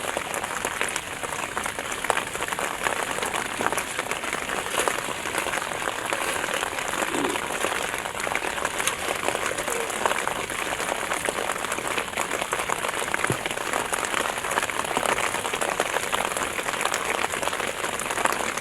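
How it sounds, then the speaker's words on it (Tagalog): Steady, dense hiss of heavy rain pouring onto surfaces, constant and unbroken throughout with no talking. "lakas ang ulan guys"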